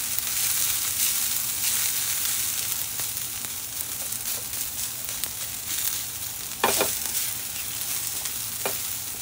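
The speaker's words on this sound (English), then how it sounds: "So, I'll saute until this gets a little bit brown." Ginger, onions, green chili, garlic and curry leaves sauté in hot oil, giving a continuous loud sizzle broken by a few sharp scraping stirs near the end, with no speech.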